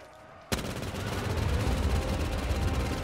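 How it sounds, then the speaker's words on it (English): A minigun in Black Ops 3 custom zombies opens up suddenly and keeps firing in a dense, rapid, unbroken stream of shots that stays loud throughout. "So I'm just gonna use all the ammo for the minigun"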